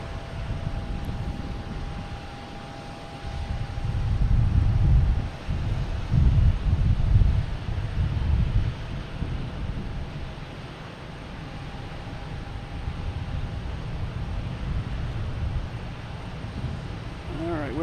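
A JetBlue Embraer E190 jet takes off at Boston Logan Airport, its engine rumble swelling into a low roar mid-clip before fading into a distant whine, with wind buffeting the microphone and a person speaking now and then.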